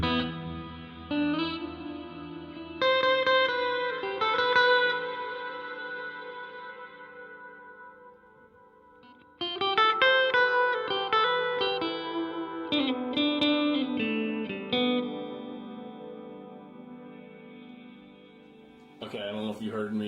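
Electric guitar notes ring out through a Donner 3 Delay X 3 Reverb combo pedal, echoing trails lingering after each phrase, with gaps where the sound fades to quiet.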